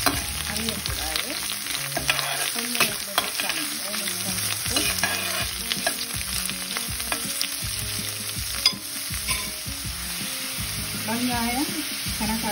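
Red onion and green chili sizzle and fry in a pan for an eggplant moju, with continuous crackling broken up by repeated stirring scrapes from close by.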